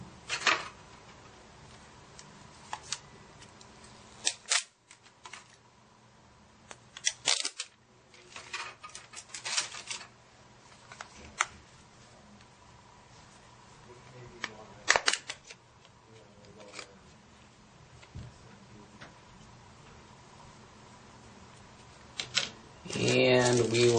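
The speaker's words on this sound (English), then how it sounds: "So let's get this plastic off." Protective plastic film peeled off a Sony Ericsson Equinox phone, giving several soft crackling, rustling bursts spread across a quiet, close indoor background with small handling clicks and a louder rustle at the end.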